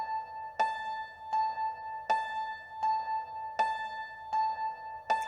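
Youngchin library instrument from Contact at its default setting plays two notes in repetition, bright plucked tones with a steady ringing drone, sounding alone with regular attacks roughly every 0.7 seconds.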